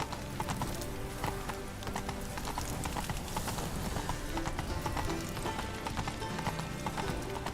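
Horse hooves galloping in The Witcher 3, a fast steady clip-clop rhythm with a brief whinny, set against game ambience and music.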